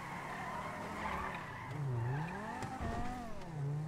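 Car from GTA 5 driving and skidding in the video game, with loud sustained tire squeal sliding up and down in pitch over a steady engine drone for the whole stretch, no talk.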